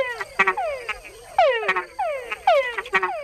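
Male frog chuck mating calls from Panama repeating in quick succession, each a sharp note followed by descending chuck-like pulses, loud and close with no other sounds.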